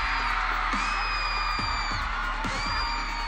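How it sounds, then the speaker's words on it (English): A large crowd at the opening of YouTube FanFest Philippines 2016 screams and whoops in rising waves, with loud sustained shrieks and a few sharp bangs. "I'm gonna go to the side that screams the loudest"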